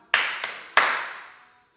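Three sharp hand claps, the first two close together and the third after a short pause, crisp and fairly close with a brief ringing decay.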